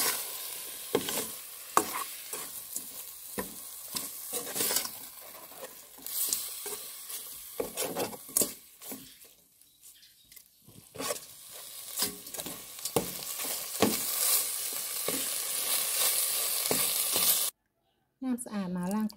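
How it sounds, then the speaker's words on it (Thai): Eggplant stir-fried in a pan for Thai chicken curry: steady sizzling with repeated scraping and clacking of a utensil against the pan, close and fairly loud, with a brief quiet stretch midway. "แล้วก็เอาไฟลงไปคั่วไปกันนี่เลยค่ะ ใส่ตัวมะเขือ"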